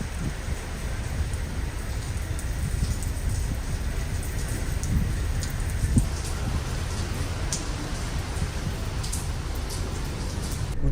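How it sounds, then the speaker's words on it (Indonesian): Rain lashing the deck of a ship at sea in the Atlantic, a dense, steady patter with low rumbling beneath, continuous throughout and without voices. "Dan saat itu memang pagi-pagi kita sudah disambut dengan hujan."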